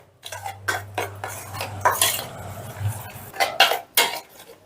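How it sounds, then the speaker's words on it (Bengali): Spoon scraping and clinking in a bowl while mango kasundi spice mix and mustard oil are stirred together, a run of close, uneven metallic clatters with short pauses over a steady low hum. "এবার সমস্তটা বেশ ভালো করে মিশিয়ে নেব"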